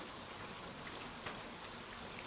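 Steady rain falls on a jungle night, a dense, even hiss of drops on surfaces with one soft tap partway through, no voices.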